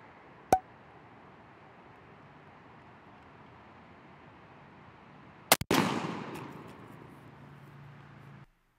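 A Winchester SXP 20 gauge pump shotgun loaded with Pendleton ammunition fires outdoors: one faint sharp crack early, then a louder close double report at about five and a half seconds, followed by a fading rumble.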